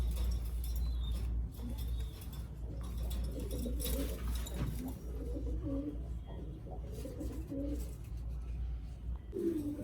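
Pigeons coo steadily inside a pigeon loft housing a mix of birds, soft throaty calls overlapping in a continuous murmur against low background rumble.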